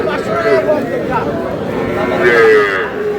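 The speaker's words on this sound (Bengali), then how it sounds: "ষাঁড় বাচ্চা, শাহিওয়ালের ষাঁড় বাচ্চা।" A young Sahiwal bull calf lows at a busy rural cattle market, its voice blending into a dense wash of crowd chatter and other livestock calling around it, loud and continuous throughout.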